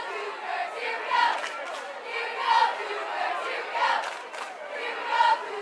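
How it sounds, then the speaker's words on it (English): Crowd at a high school football game, Yelm at Central Kitsap, cheering for the Cougars in rhythmic rising chants and shouts, several swells over steady crowd noise. "still cheering their Cougars on"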